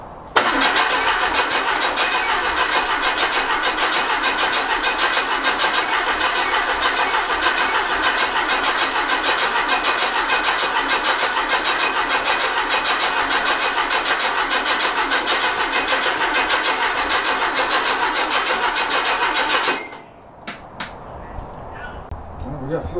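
A rebuilt 1835cc engine is started for the first time after its rebuild. The starter cranks loudly and steadily for about twenty seconds, then stops abruptly, leaving faint sounds and brief talk.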